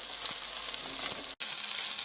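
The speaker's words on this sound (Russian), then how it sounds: "Рыба у нас уже шкварчит." Crucian carp pieces sizzle and crackle steadily in a hot frying pan, a close, continuous frying hiss with only a momentary break.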